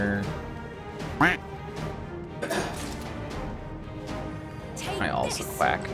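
Duck-like quacking from the Final Fantasy XIV video game, a few short quacks popping up over a steady bed of game music and effects, with a voice talking.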